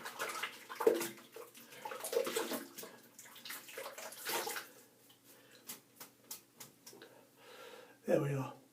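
Water splashes and trickles as a shaving brush is rinsed, in uneven bursts with a louder gush near the end, while someone talks over it.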